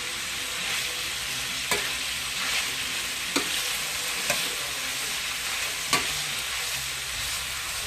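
Sausage, cabbage, onions and peppers fry in a pan with a steady broadband sizzle, and sharp stirring clicks from a utensil against the pan recur every second or so throughout.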